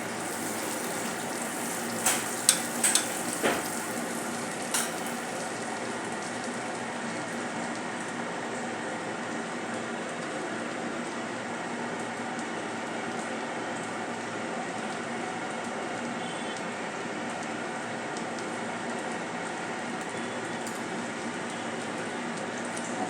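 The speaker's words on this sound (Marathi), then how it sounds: "आता यामध्ये आपण घालणार आहोत बटर हलकेसे मेल्ट होऊन देऊया।" Butter melts in a pan for a snack made from leftover bread slices, producing a quiet, steady bubbling hiss with a few sharp crackles near the start, then a continuous low sizzle, with no voices.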